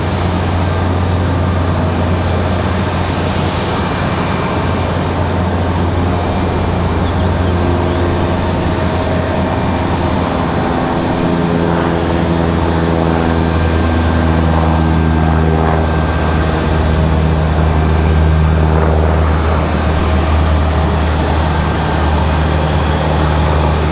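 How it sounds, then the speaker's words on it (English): General aviation propeller aircraft flying near Raleigh-Durham International Airport, a loud steady drone with low harmonic tones that rise and shift as the plane passes close overhead, no voices. "we actually get to catch some of the general aviation stuff"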